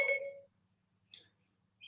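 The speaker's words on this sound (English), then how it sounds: "my phone heard Siri, so pardon the noises in the background" A phone beeps after Siri is activated by mistake: a bright tone at the start, then two faint higher chirps after a pause, against a low background hum.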